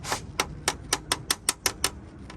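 Hard, brittle plastic oil cooler seal from a Mercedes-Benz being handled, giving about eight sharp, dry clicking taps at a fairly even rhythm, close and clear, with no talking.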